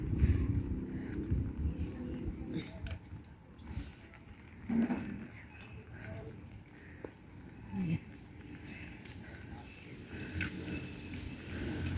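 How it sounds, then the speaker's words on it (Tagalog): Strong typhoon wind buffets the microphone in a steady low roar, with occasional gusts and faint rustling outdoors after heavy rain. "malakas ang hangin"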